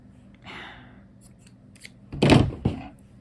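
Scissors snip through crochet yarn: one sharp, close cut with a quick follow-up click after a soft rustle, in an otherwise quiet room.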